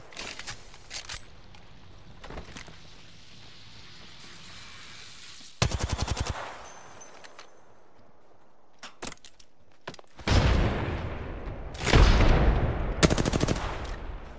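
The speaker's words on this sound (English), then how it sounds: "Getting shot at." Video game gunfire in sharp bursts, a few scattered early shots then a heavy rapid volley midway and dense sustained firing toward the end, fairly close and loud.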